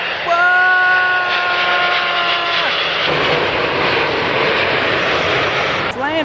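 A jet airliner landing at Tampa International Airport sweeps past close and loud with a rising whine and then a sustained roar, while people nearby exclaim over it.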